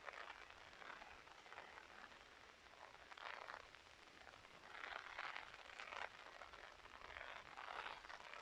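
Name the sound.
light rain with wind in a village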